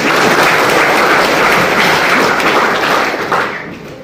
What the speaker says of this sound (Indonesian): Tuhan, tepuk tangan.